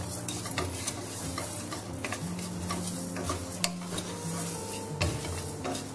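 Red chilli frying in masala for a fish curry, with a steady soft sizzle, a utensil stirring and occasional light clinks against the pan throughout.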